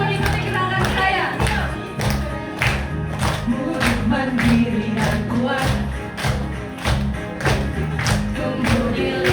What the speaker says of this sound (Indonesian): Oke, sambil tepuk tangan ya